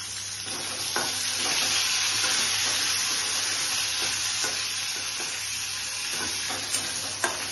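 Tomatoes frying in a pan with green and dried chillies and white cumin for a paneer curry, stirred with a utensil: a constant close sizzle broken by occasional scraping knocks.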